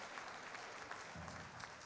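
Steady applause from an awards ceremony crowd, dense and continuous clapping throughout the short stretch.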